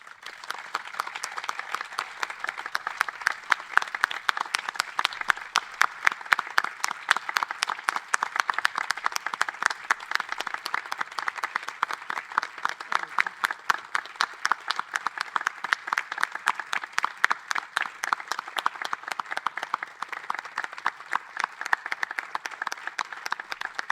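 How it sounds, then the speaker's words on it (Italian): Sustained audience applause at the close of a live performance, many hands clapping in a dense, even roar that holds steady for over twenty seconds without a break or any voices. "sarei molto contento se faceste un bel applauso a Monica, a Marco, a Jeremy, a Chiara"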